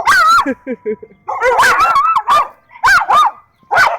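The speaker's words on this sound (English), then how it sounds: "This dog looked like Chico from Friday." A dog barks and yips in loud, close, irregular bursts, with short whimpering sounds between them and brief silent gaps.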